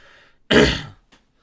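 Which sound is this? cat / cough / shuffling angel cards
cough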